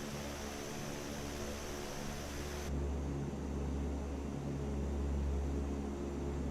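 De Havilland Canada CL-415 amphibious aircraft in Microsoft Flight Simulator 2024, a steady loud drone of turboprop engines with strong low rumble and broadband hiss that softens after a few seconds, continuous throughout without talk.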